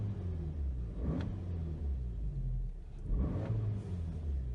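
A car engine runs at a steady low rumble close by, with two brief swells of revving breaking the even idle-like hum, no voices.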